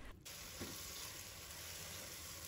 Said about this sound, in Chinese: 再把我们调好的料汁倒入锅中，继续给它翻炒均匀，使食材充分的入味